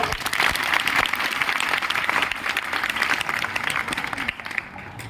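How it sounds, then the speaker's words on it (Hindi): An audience at a school Gandhi Jayanti cleanliness-drive ceremony applauds a teacher, steady crowded clapping that holds throughout and thins out near the end. "सर जी के लिए आप लोग ताली बजा दीजिएगा"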